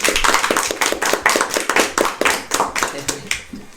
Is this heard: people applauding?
yes